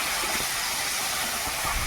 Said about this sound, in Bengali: টমেটোগুলো দিয়ে দিয়েছি, সুন্দর মতো ভেজে নেবো লাল লাল করে।